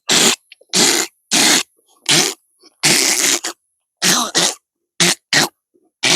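A voice imitates the squabbling cries of fighting mongooses, giving a series of about ten harsh, raspy bursts separated by short silences, loud and close.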